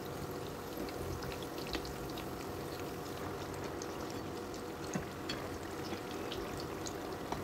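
Snacks frying in hot oil, heard as a continuous crackling bubble with scattered sharp pops and spits, moderately quiet and steady, with no talking.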